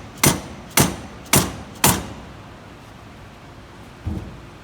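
A sand mallet strikes a C5 Corvette ball joint four times in a quick, evenly spaced series of sharp, close metallic blows, followed after a pause by one softer knock.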